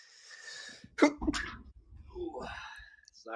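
One sharp, close sneeze, with a few brief breathy vocal sounds after it.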